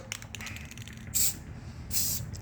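Clear coat is sprayed onto a 2011 Lotus Evora headlight during restoration, heard as two short, close hissing bursts from the spray can with quiet handling sounds between them.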